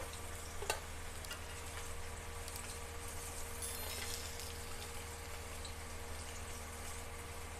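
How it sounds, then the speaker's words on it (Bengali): Pieces of katla fish fry in oil for a Bengali doi katla dish, giving a faint, steady sizzle with soft crackles throughout and no voices. "আবার দিয়ে দিলাম মাছ এগুলোকেও ভেজে নেবো"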